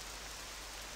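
Steady rain in the Octopath Traveler 2 video game, a faint, even hiss of falling drops with no other sounds.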